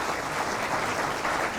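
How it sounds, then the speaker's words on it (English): Audience applause for a speaker at a talk, a brief burst of thick, even clapping from many hands filling the room, close and continuous. "A little applause for Mo."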